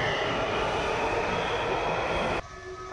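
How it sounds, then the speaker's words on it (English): A train pulls out of a station in Washington with a loud, steady rumble and rolling wheel noise that cuts off abruptly near the end, leaving a quieter tonal hum. "Our train is leaving us."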